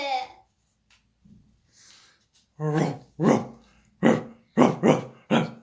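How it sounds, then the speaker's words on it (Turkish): A dog barks several times in a quick, uneven series, loud and close, after a few quieter sounds. "Köpek sesi."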